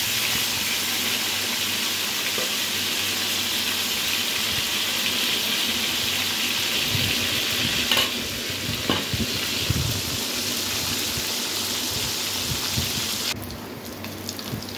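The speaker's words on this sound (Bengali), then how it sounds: "পটলগুলো ভাজা হচ্ছে" Slices of pointed gourd fry in hot oil in a pan, a dense, steady, close sizzle that runs without a break, with a few soft scraping and stirring touches near the end and no voices.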